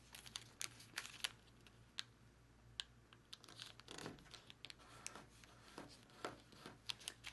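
Paper being creased and folded into an origami dragon, a steady run of close, quiet crinkles and crisp snaps with a faint hiss between them, with no voices.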